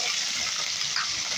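Prawns dropped into hot mustard oil in a pan hiss and sizzle loudly. The frying is a steady, bright crackle with no break for its short length.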